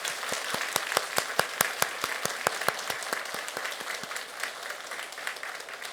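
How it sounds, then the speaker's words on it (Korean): Congregation in a Korean Catholic church clapping to welcome newly baptized adults; sharp individual claps ring out clearly at first, then thicken into a softer, scattered round of applause that gradually thins out. "새 영세자들에게 환영과 축하의 의미로 박수를 보내드립시다"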